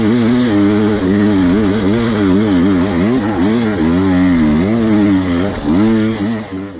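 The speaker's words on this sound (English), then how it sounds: "Little fun 3rd gear hill climb right here for ya." An enduro motorcycle climbs a hill in third gear at a hard enduro race, its engine loud and close with a rising and falling buzzing note as the throttle works continuously.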